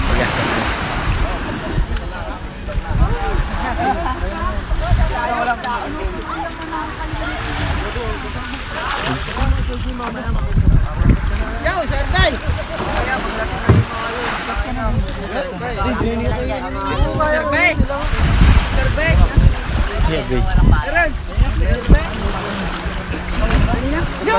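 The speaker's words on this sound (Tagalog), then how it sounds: "Sakay na po kami sa bangka, mga kaabaw." A small outrigger boat on the sea off a white-sand beach resort in Lian, Batangas, with constant wind and surf roar and a low motor rumble beneath, while people talk over it nearby.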